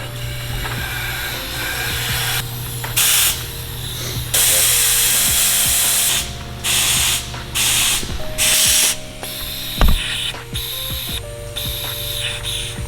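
Sharp bursts of pressurized air hissing from a boost leak in an LS-swapped engine intake under a smoke or pressure test, loud spraying blasts that cut in and out repeatedly over a steady background hum, with occasional mechanical clicks.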